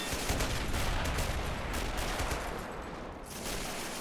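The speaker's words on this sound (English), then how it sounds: "As you can tell, artillery rounds are landing closer to the what's left of the French defenses on this island." Artillery rounds land near the remaining French defenses on an island in a war video game where US Marines invade; a dense, continuous roar of blasts and gunfire rumbles loudly throughout with no letup.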